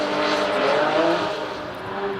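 A Toyota ice-racing car from the Trophée Andros runs on a frozen circuit in Andorra, its engine a steady, fairly loud drone that holds and eases slightly, with no voices over it.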